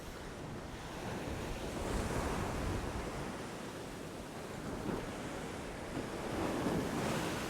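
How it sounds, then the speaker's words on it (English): Strong wind and heavy surf roar steadily at the shore during a fishing session, a dense, continuous wash of breaking waves and gusting wind noise across the microphone with swells of louder surges and no talking. "Ripping wind going that way, drift going fast that way."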